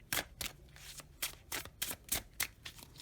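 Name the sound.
tarot cards being shuffled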